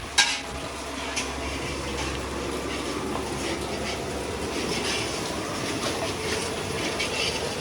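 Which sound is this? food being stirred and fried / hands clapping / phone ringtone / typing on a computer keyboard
food being stirred and fried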